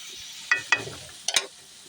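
Pitha cakes frying in hot oil, a soft steady sizzle with a few sharp crackling bursts and stirring clatters close by, no voices.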